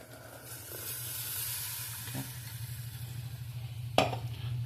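Ground coconut paste goes into a simmering fish curry in a clay pot, giving a steady soft sizzle and hiss with gentle stirring scrapes and one sharp utensil clink near the end.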